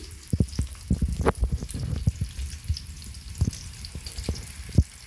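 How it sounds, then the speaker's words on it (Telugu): Onion sizzling in a little oil in a kadai on the stove, with sharp crackles and pops scattered over a steady frying hiss, close and fairly loud with no talking. "కడాయి పెట్టుకున్నాను ఇందులో కొద్దిగా ఆయిల్ వేసుకున్నాను ఒక ఉల్లిపాయ వేసుకుంటున్నాను"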